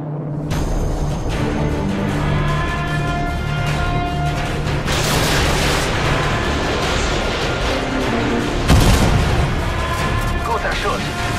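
Heavy rumbling booms and blasts from missile explosions in Call of Duty: Modern Warfare 2, dense and loud, with a sharp burst near the end over a constant roar.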